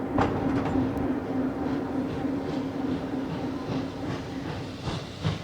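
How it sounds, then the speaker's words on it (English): A little red train moving along the rails, with a steady rumble and rattle of wheels and faint rhythmic clicks running continuously throughout, no talking. "the little red train steamed out of the old sidings and back onto the main line"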